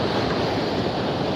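Ocean surf washes steadily onto a beach on a morning walk, a continuous broad roar with wind buffeting the microphone and no voices.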